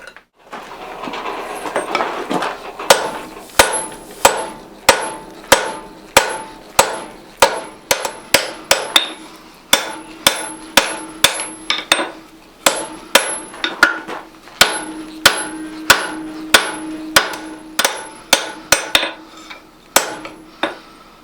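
A hammer forges a steel bar into a blacksmith's hold fast, striking it dozens of times in steady bursts of ringing blows with brief pauses between runs. The hits are close, sharp and metallic, and no one speaks.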